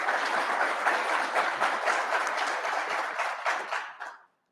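Sustained applause from an audience at a law enforcement training academy graduation, a dense, steady clapping that fills the room for about four seconds and then cuts off.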